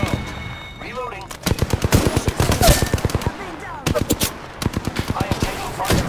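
Automatic gunfire in the Apex Legends video game, with several rapid bursts of close, loud shots separated by short pauses, under a busy game soundscape.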